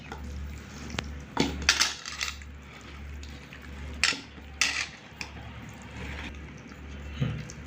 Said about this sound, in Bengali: এটা ভালো করে মাখছি, নাহলে কিন্তু লেবুর রস আর লবণগুলো ভিতরে যাবে না।